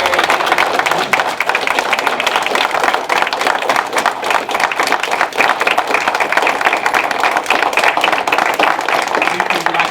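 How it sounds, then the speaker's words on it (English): Applause from an audience at a county commissioners meeting, a steady dense patter of many hands clapping for about ten seconds, fairly close and continuous throughout. "give him a round of applause for his service"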